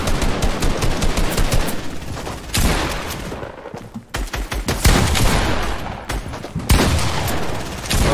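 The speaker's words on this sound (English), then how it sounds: "Wait, who's shooting at me?" Rapid bursts of Fortnite gunfire crackle in dense volleys for most of the stretch, loud and close, with a short lull near the middle before the shooting picks up again.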